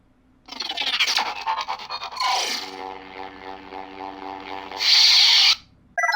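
A Luke V1 Neopixel lightsaber fires its stack ignition effect, a crackling, rasping burst that settles into a steady electric hum, then a bright sizzling flare near the end before cutting off.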